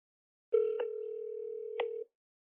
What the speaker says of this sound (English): I decide to call this phone number, which I'm going to do